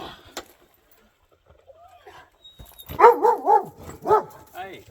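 A dog barks in a quick run of four or five loud, close barks, then one more, beside a frozen spring lake after near-silence and a few faint knocks.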